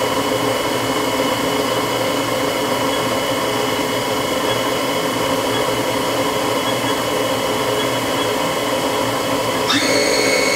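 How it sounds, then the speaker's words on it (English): The spindle of a Haas HS1RP horizontal machining center runs at 1500 RPM, a steady loud whirring whine with constant hum. Near the end the pitch shifts abruptly. "Right now I'm running the spindle at 1500 RPM"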